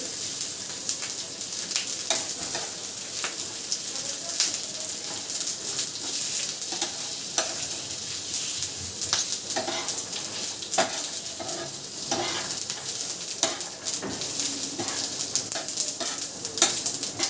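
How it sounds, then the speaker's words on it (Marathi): Masala spices with karale (niger seeds) and coriander seeds roasting in a little oil in a pan, a steady close sizzle and crackle with scattered sharp pops and occasional stirring scrapes throughout, no voices. "भाजला मसाला, आता बंद केला गॅस."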